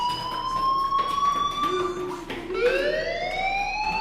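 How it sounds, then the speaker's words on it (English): A school fire alarm in the video game Life is Strange sounds continuously, a loud steady electronic tone with harmonics that briefly dips and shifts pitch midway, with faint background sound beneath. "do you hear that fire alarm?"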